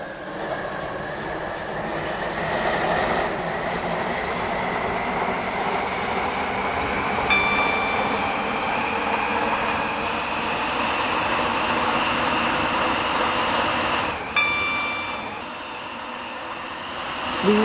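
A train in a railway video game runs continuously with a steady, rising electric motor whine and rolling rumble, with a couple of brief tonal beeps partway through, heard close and alone without talk.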